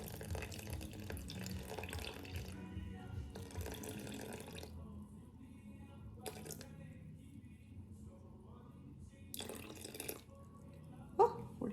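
Warm filtered water poured into a sourdough starter in short bursts, a soft splashing stream that stops and restarts several times, with quiet gaps and a small clink near the end.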